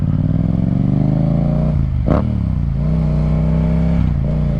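A Yamaha FZ-07 motorcycle exhaust revs up from a loud, close idle, climbing in pitch, dropping back, then blipping again, with no talking.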